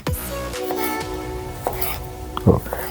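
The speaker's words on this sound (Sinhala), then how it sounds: "ඊට පස්සේ මෙන්න මේ වගේ තීරු කපන්න පුළුවන්" A knife cuts a snake gourd into strips on a board, making a few sparse, light taps and scrapes while a person talks over them.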